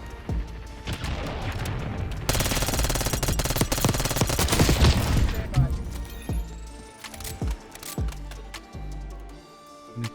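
Dense automatic gunfire from the Call of Duty Black Ops 6 video game, a long loud burst of rapid shots and impacts that thins into scattered single booms, with a voice speaking over the action.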